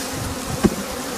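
Honey bees hum around an open beehive, a close, continuous buzzing drone with one bee passing briefly louder near the microphone.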